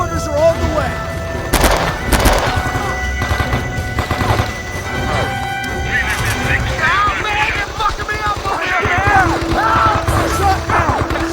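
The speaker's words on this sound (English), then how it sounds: "Mortars are on the way." Mortar fire in the video game Men of Valor, with loud booming blasts and gunfire crackle over a busy battlefield din, while voices call out over the noise.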